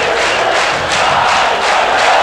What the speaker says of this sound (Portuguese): Torcida do Fluminense já gritando, seremos campeões, né?